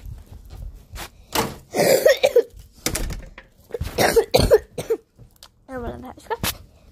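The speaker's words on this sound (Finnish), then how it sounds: "Mulla on vähän yskä." Repeated coughing, a run of sharp close bursts and throat-clearing spaced irregularly across several seconds, with brief quiet gaps between them.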